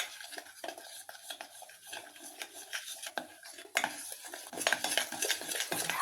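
A spoon stirs a heating cornstarch batter for crispy cauliflower in a pan, making repeated scraping and clinking strokes with a soft sizzle, close and fairly quiet.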